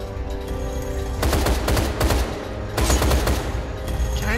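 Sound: gunfire from the video game Deadfall Adventures

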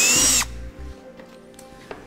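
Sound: power drill drilling holes in metal

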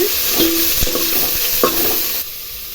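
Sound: stirring onions and tomatoes frying in a pan

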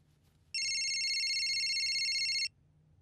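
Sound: phone ringing

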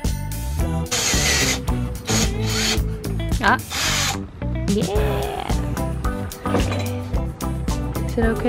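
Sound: power drill bit drilling through van roof metal

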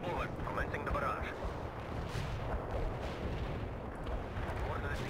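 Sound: artillery barrage in video game World in Conflict

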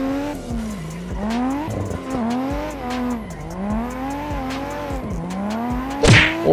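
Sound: car tandem drifting with tire squeal in video game Assetto Corsa

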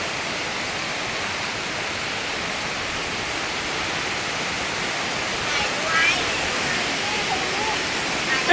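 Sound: waterfall

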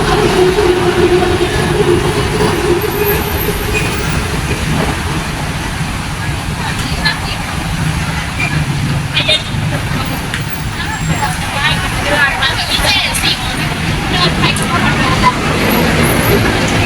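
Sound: road traffic at Silom intersection, central Bangkok

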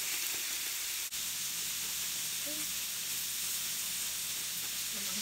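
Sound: kimchi frying in a pan with pork belly

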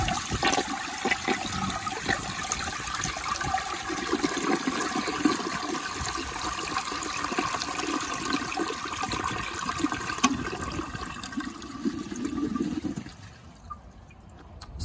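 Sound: 1978 Eljer toilet flushing

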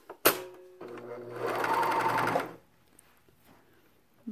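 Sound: coverstitch machine sewing chainstitch seam on knit fabric

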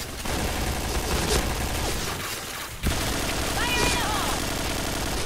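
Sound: gunfire in the video game Point Blank

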